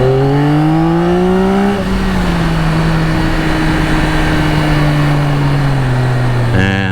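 A 2024 Yamaha XSR900 motorcycle pulls hard in second gear to overtake traffic, its engine note loud and close, climbing steeply, then holding a long sustained drone before another surge, with wind noise underneath.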